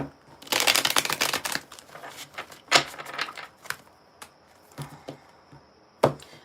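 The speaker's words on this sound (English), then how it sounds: "I'm going to shuffle and then I'm going to pull some cards" Tarot cards are shuffled by hand in close, crisp riffling bursts, first a dense flurry and then scattered slaps and flicks of the deck, with no talking.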